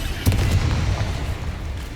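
A Confringo spell explosion in Hogwarts Legacy, a loud deep boom with a sharp onset followed by a rumbling decay, close and alone.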